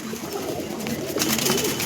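Kalsira breed pigeon pair cooing softly at close range, low repeated coos over a busy background with no speech.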